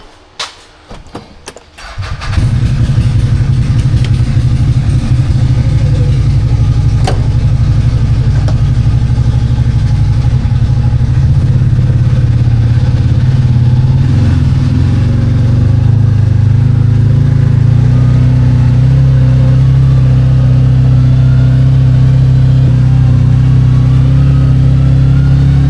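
2023 CFMoto Uforce 1000XL side-by-side engine after a CVT belt replacement, starting after a few clicks and knocks and then a steady loud, close idle and drive drone that lasts to the end.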